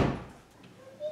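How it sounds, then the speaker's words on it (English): A single solid door slam of a 2015 Volkswagen Golf R (Mk7, US version) with a low thud at the start, then a short fade into quiet room tone. "These doors shut amazing."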